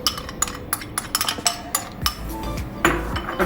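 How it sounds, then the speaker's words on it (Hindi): A spoon clinks and scrapes against a bowl while stirring custard powder into milk, a quick run of bright metallic taps and knocks close up, with no talking. "ये देखिए स्पून चलाती रहूँगी साथ साथ"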